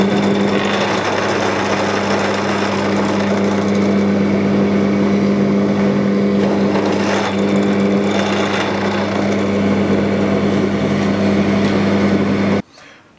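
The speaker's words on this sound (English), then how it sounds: "we're just going to drill out all of these holes and take it from there." A power drill bores holes through two clamped pieces of wood for a rumba box build, a loud, steady motor whine running unbroken for about twelve seconds before cutting off abruptly.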